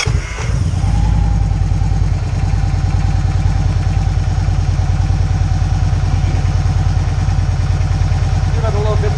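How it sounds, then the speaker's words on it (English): A Victory Cross Country 106 motorcycle engine starts with a brief crank and catches, then settles into a steady, loud, pulsing V-twin idle close up for several seconds. "we're gonna fire it up here, see how everything works"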